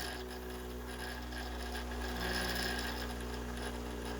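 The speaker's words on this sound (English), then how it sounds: "So now the bearings are spinning on the actual rotor itself, plus the two on the housing and the one floating on top of the magnet" A 3D printed pulse motor spins its rotor on bearings, giving off a steady faint mechanical whir with a ratcheting rattle and a constant low hum, with no voices.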